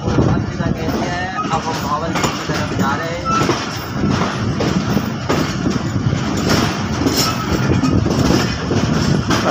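A branch line passenger train runs on rails in extreme cold, giving a loud continuous rumble with clattering wheel noise and rattling carriages, heard from on board, with people talking underneath.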